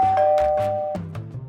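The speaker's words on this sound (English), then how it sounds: "Let's talk about IMILAB Smart Doorbell" An IMILAB wireless smart video doorbell plays its chime, a short bright electronic ding-dong melody that sounds clear and close, with no voices.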